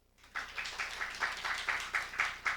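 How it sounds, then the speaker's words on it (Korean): A church choir claps in a slow, even rhythm, about ten distinct claps in a row, fairly faint and close with a little room echo. "성가대만 박수예요."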